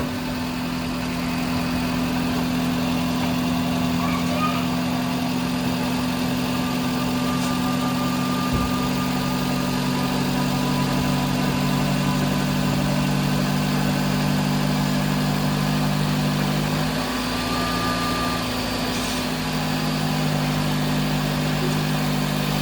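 A Maruti car engine idles steadily after a year of sitting unused, a continuous close rumble with slight vibration and a small pitch wobble late on.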